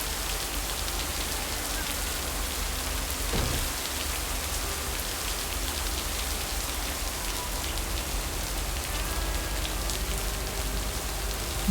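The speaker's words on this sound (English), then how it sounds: "Man, we're getting real rainy." Rain falls steadily in the video game Lake, a continuous even patter on surfaces with a brief soft thump partway through and no voices.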